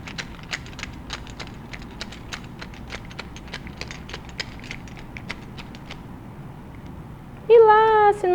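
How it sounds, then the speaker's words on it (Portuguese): A pencil case is handled in a classroom demonstration, producing a series of light, irregular clicks and taps for several seconds, followed at the end by a short, loud tonal sound. "Será que posso produzir som com o meu estojo?"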